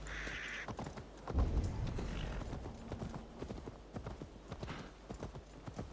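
Horse hooves clip-clop steadily in the video game Assassin's Creed Valhalla, a continuous rhythmic trot with a brief thump and faint game ambience behind it.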